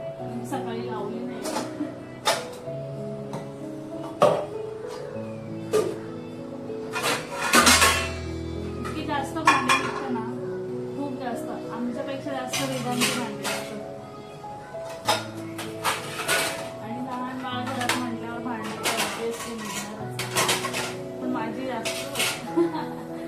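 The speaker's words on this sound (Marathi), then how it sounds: "तोपर्यंत भांडी तरी लावून" Dishes and cutlery clatter in a home kitchen while a meal of a surmai fish thali is prepared, with scattered clinks and knocks recurring throughout over steady background talk and kitchen sounds.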